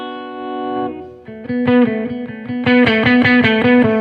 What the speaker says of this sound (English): I actually try and use my pick to activate distortion and deactivate it.